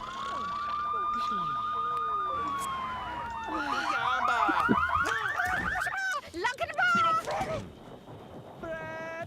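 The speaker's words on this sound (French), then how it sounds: "Heureusement qu'il y a l'alarme." A car alarm blares up close in a residential neighbourhood, cycling through loud warbling, sweeping and rapidly pulsing electronic tones that change pattern every few seconds without pause.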